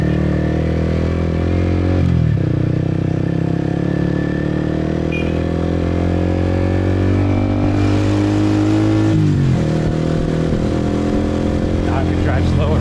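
A motorcycle ridden on the road from Saigon to Vung Tau, Vietnam, its engine droning loudly with rising and falling revs, including gear changes at a couple of points, and faint voices in the background.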